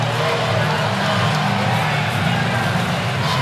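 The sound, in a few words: basketball arena crowd cheering at Purcell Pavilion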